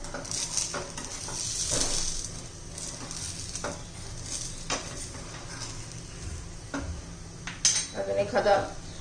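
A rava snack sizzles in a covered pan, with a steady frying hiss, clatter from the lid or spatula and a scraping flip, while someone talks over it.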